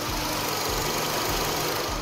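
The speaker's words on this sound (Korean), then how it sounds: "영상으로 엔진 소음 한번 담아보도록 하겠습니다." An SM6 LPG sedan's engine idles with the hood open, a steady, low, even hum with faint rhythmic pulsing, recorded close up and without any voices.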